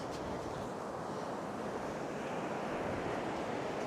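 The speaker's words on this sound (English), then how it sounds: "The waves are pounding in." Rough sea surf pounds steadily onto the beach at Cambois, a dense continuous roar of breaking waves with wind buffeting the microphone, loud and unbroken with no voices.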